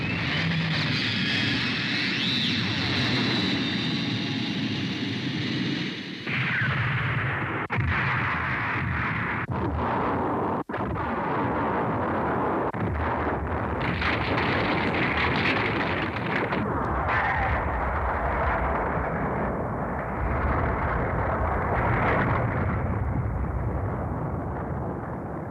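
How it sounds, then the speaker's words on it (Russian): An antiproton cannon fires as a sci-fi sound effect, a loud rumbling, roaring blast that surges and shifts over a long stretch with no voices. "Хорошо, антипротонной пушкой огонь."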